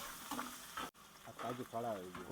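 Onions and tomatoes fry in a pan at a roadside dhaba, a soft steady sizzle with stirring, heard close and under someone talking.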